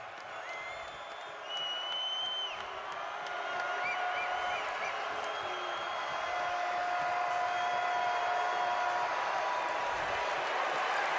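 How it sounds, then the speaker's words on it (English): Crowd noise swells inside Extra Mile Arena at a Utah State versus Boise State college basketball game after a two-handed dunk, a broad distant roar with whistles and shouts rising and holding steady. "the crowd here inside Extra Mile Arena coming to life for the first time"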